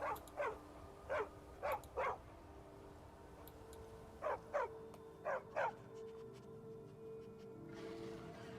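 A dog in the video game Skyrim lets out a rapid series of short yips and barks in two bursts, close and moderately loud over a steady low background hum, with no speech.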